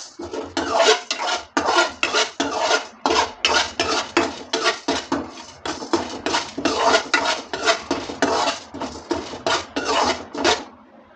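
Chana dal roasting in a hot kadai, stirred with a utensil in quick repeated scraping, rattling strokes against the metal pan, close and continuous with no talking.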